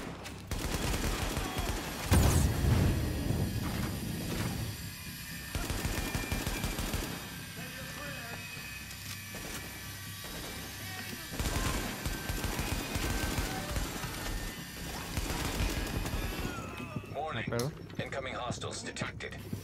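Shotgun fire in The Division rings out in heavy, repeated blasts amid a busy firefight with machine-gun-like rattles and rumbling ambience, while players talk over it.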